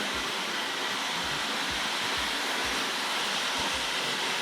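Tri-ang R.55 single-ended diesel model locomotive hauling silver TC coaches on model track: a continuous loud whirring drone with faint rhythmic rail-joint clicks underneath.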